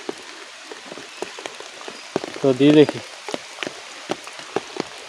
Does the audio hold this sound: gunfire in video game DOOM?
no